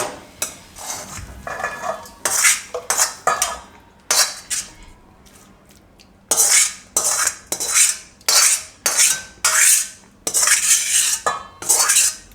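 Metal utensils clatter and scrape against a pan while paneer and pea stuffing for parathas is moved into another vessel, sharp close bursts of clinks separated by short quiet gaps.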